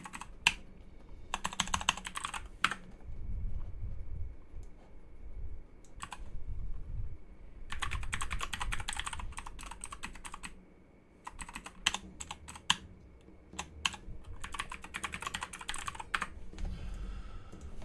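Bursts of rapid key clatter on a computer keyboard while programming, close and crisp, separated by short pauses and scattered single keystrokes.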